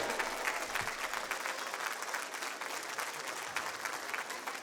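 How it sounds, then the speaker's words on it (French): Steady applause from an audience at a Breton concert in Quimper, dense clapping that continues evenly throughout without letting up. "vous pouvez encore applaudir et pour remercier Maëloc."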